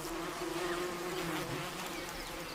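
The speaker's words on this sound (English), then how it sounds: "The adults beat their wings to fan the brood." Tiny Rhopalidia wasps beat their wings to fan the brood, a close, continuous droning buzz with a steady pitch, heard alone.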